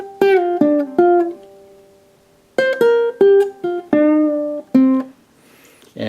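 Ukulele intro to Jack Johnson's Good People, with bent strings, played solo and close: plucked notes and short chord strums in uneven phrases with brief pauses.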